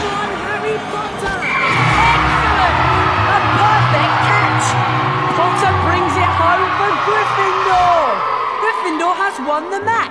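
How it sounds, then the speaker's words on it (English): A crowd at a Quidditch match in the Harry Potter and the Chamber of Secrets video game cheers and roars steadily throughout, with game music and sound effects layered on top. "The crowd is on its feet!"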